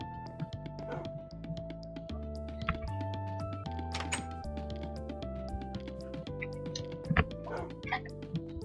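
Dogs in the video game Minecraft yip, bark and whimper in short repeated bursts over a steady synthesized game tone, with occasional thunks, moderately loud and without talk.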